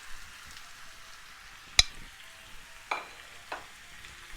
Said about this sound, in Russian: И теперь нам нужно лук с морковью потомить в сковороде.